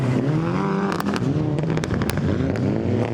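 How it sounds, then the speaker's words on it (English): A Toyota Celica rally car drives its run on a rally super special stage, the engine loud and close with rising and falling revs and sharp pops and crackles throughout. "Next to go, Gary Lakodu's Toyota Celica"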